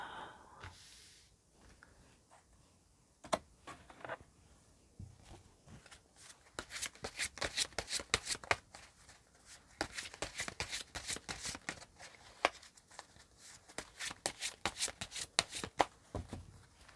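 Tarot cards are shuffled and handled close up in a quiet room, with a burst of rapid riffling and slapping after a few sparse taps, then continuing in uneven flurries of crisp card snaps.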